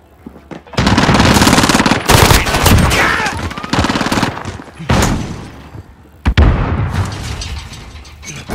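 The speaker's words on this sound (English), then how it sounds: "What the hell kind of gun is that? That thing has massive recoil." A heavy-recoil gun in Call of Duty: Modern Warfare fires loud, rapid automatic bursts, near and harsh, in several long volleys with brief pauses between them.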